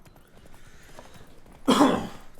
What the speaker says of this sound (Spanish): perdón por todas estas toses que estoy haciendo